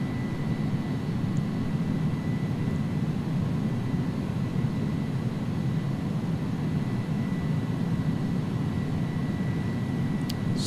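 Jet engines of an iniBuilds A300-600R(F) freighter climbing after takeoff in a flight simulator: a steady, even, broadband roar and hum that holds unchanged throughout, with no talking.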